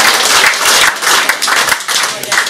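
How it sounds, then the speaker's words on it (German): An audience claps at a German dialect (Platt) stage show: loud, close applause with distinct rhythmic hand claps that fade slightly toward the end. "Applaus für uns"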